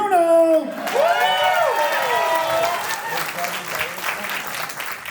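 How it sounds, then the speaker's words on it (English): Wedding reception guests applaud and cheer as a co-best man is introduced, a loud burst of clapping with whoops rising after a voice over the speakers, then steady applause continuing to the end. "Applause for Brian Bruno"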